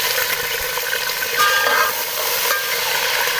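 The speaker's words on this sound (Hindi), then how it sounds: "अब इसके अंदर मैं चिकन डाल देती हूँ" Chicken pieces dropped into a pan of browned onions for chicken pulao, frying with a steady, close, loud sizzle that flares briefly and continues without talk.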